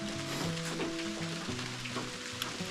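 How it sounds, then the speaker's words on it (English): Rain falls on a metal roof over a wilderness cabin veranda in Nova Scotia, a steady hiss of patter with a faint tonal hum underneath, continuous and moderately quiet. "Raining pretty good there now. Hear it on the metal roof."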